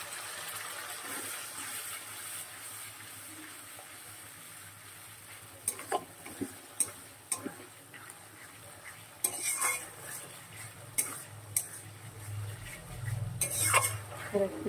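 Spice paste being stir-fried with a splash of water in a pan, with soft scraping and clinking of a spoon against the metal at irregular intervals over a low steady background.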